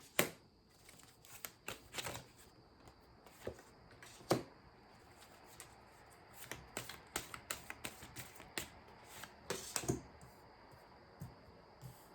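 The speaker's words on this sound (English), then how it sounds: "And then I'll pull in some oracle cards." Oracle cards being shuffled and pulled from a deck: close, dry riffling and flicking bursts with sharp card snaps, irregular and repeated throughout, with no talking.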